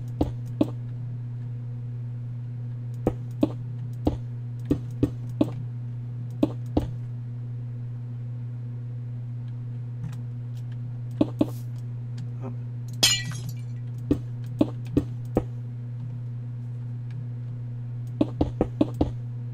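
Glass blocks being placed in Minecraft give a series of sharp, brief clinking glass-break ticks, scattered and irregular over a steady low game hum, with a short bright burst midway.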